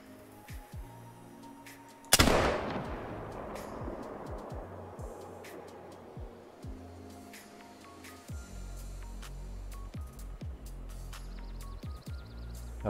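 Single sharp shot from a muzzle-loader rifle in a hunting video game, a loud crack with a long fading tail, followed by quiet game ambience with soft clicks and a low rumble.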